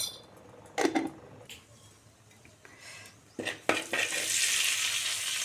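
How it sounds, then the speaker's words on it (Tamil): Fennel powder drops into hot coconut oil in a pan after a few soft clinks of utensils. A bright, steady sizzle swells up and holds close through the last seconds. "எண்ணெய் காஞ்சதுக்கப்புறம் சோம்புத்தூள் சேர்த்துக்கலாம்."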